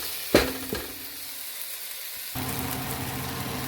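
Onions frying in a pan for an old-style onion soup, a sharp clunk at the start, then quiet before a steady sizzle rises and continues to the end.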